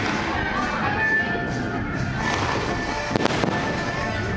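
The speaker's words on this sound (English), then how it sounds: "That's an intense fireworks show" A fireworks show at Disney World booms and crackles continuously. Dense bursts and a sharp pop cluster rise over a crowd murmur.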